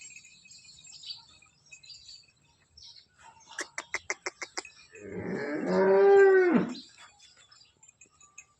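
A large Holstein Friesian (HF) dairy cow, heavily pregnant, lets out one long, loud moo near the end. Before it comes a quick run of sharp rhythmic chirps in an otherwise quiet barn.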